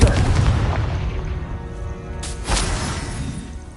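Blast from the Confringo fire spell in the video game Hogwarts Legacy: a loud booming burst up front, then a second crack-like blast about halfway through, over continuous rumbling game noise.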